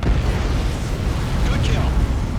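Missile strike on an enemy aircraft in the jet combat game Ace Combat 7, a dense, loud rumbling blast that fills the short moment, with a radio voice talking over it.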